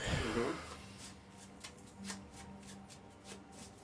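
A deck of cards being shuffled at a tabletop game session, a quick riffle at the start followed by a run of soft, rhythmic card snaps and flutters, moderately close with faint room background.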